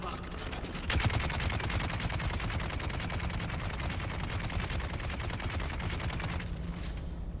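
Enemy gunfire in the game Dune: Awakening pours at the player as sustained rapid automatic fire, loud and continuous, with a burst of sharper shots near the start.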